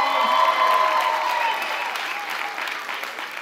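A crowd at the AIDS Walk New York kickoff claps warmly for an honoree, loud at first and gradually tapering off, with a steady tone and scattered voices underneath.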